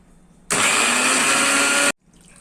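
A kitchen mixer grinder whirs at full power grinding moong dal with green chili, ginger, turmeric and salt for bhaji batter. It makes a single loud, abrupt burst of about a second and a half, then cuts off sharply.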